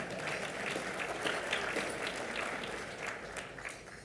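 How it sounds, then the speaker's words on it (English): A crowd at a Chamber of Commerce luncheon claps steadily and loudly for several seconds, a dense wash of hands with no voices standing out. "Can we have a round of applause for that one?"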